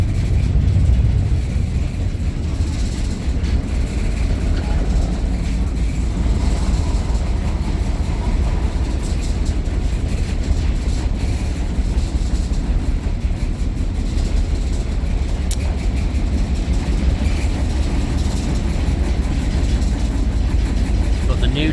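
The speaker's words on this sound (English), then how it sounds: "Got the new trains out there, which are due to be, there they are, that's them there" New Stadler metro trains pass near their depot by South Gosforth, heard as a loud, continuous rumble of rail and engine noise from a moving vantage point, with a voice speaking intermittently over it.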